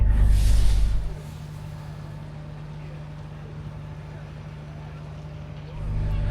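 A large Coastal Express ship docking at a Norwegian harbour gives off a deep steady engine rumble, with loud gusty wind noise at the start and end, heard close on deck.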